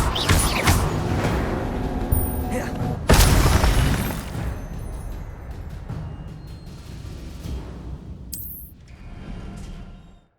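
An Incendio fire spell cast in Hogwarts Legacy bursts out with a loud whooshing, crackling blast that swells, then fades into a rumbling, shattering tail with a bright tinkling flare near the end.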